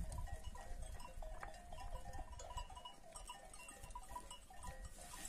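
Sheep bleating here and there across a flock, with bells clinking and shuffling movement over a steady outdoor background.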